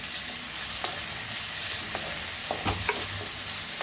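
Whole garlic frying in a pan for Goan sardine curry, a dense steady sizzle up close with a few scraping stirs of a utensil, no one speaking.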